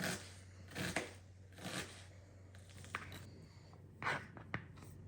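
A knife dices an onion into small cubes on a cutting board in a home kitchen, with soft, irregular chopping taps and scraping strokes, close and fairly quiet, with no one talking.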